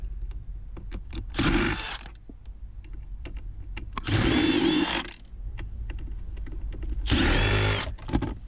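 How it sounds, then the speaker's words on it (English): A powered screwdriver backs Phillips screws out of the armrest of a 2006-2012 Toyota Yaris, with three loud whirring bursts of a second or so each, separated by quieter pauses with small clicks. "there are 4 screws, again Phillips screws. You'll need your screwdriver again and remove them."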